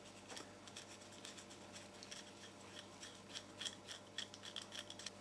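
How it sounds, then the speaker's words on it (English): The tip of a screwdriver is rubbed to magnetise it during a Candy/Hoover washing machine pressure switch repair. Faint, close, rhythmic scraping strokes repeat steadily and grow slightly quicker toward the end, with no talking. "so I'm just going to magnetise the end of the driver"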